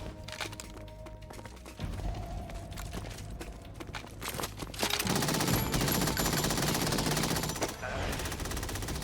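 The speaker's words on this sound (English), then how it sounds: "Some bad shooting." Gunfire in Metal Gear Solid 2, starting as scattered shots and building into a louder, dense rattle of rapid automatic fire that runs to the end amid game noise.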